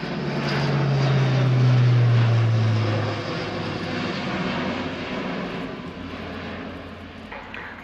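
An Airbus A400M Atlas turboprop airlifter in a flying display at the RIAT 2017 airshow, a loud sustained propeller drone with a rising, falling tone that eases off after a few seconds.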